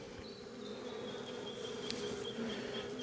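Honey bees, including large drones, buzz continuously around an open hive during an inspection, a steady close hum with one bee's pitch drifting as it flies past.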